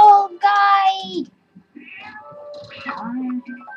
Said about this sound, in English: Where's the kitty going?